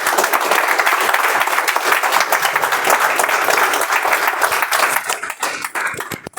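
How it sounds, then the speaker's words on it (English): Audience at a Toastmasters meeting breaking into loud, dense applause, a sustained wash of many hands clapping at once that thins out and trails off near the end. "I think our area director deserves a better round of applause, everybody."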